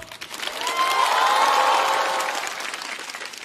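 An audience at a stand-up comedy show bursts into applause, a dense wash of clapping that swells quickly, holds for about two seconds, then fades into scattered claps.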